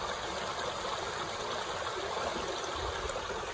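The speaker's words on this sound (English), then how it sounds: "Let me show you a little water feature here." A small water feature along a mountain hiking trail trickles and rushes steadily, a dense, even flow of water heard close up with no voices.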